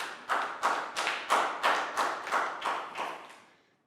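A few people clap for a student, Nadia, in a Year 3 English class: about nine evenly spaced claps, close and clear, with the last ones fading out.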